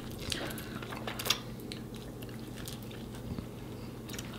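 Someone eats chicken wings up close, with soft wet chewing and a few sharper bites and crunches against quiet room background, and no talking.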